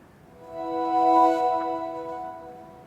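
A short electronic chime rises and fades, a clean tonal startup jingle from a NAXEON electric bike switching on, sounding on its own with no talking.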